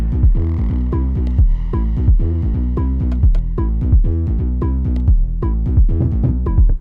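An electronic dance track's drop with chords added back in, dense and loud throughout, a pumping low end and steady rhythmic hits under sustained harmonic layers, with no voice.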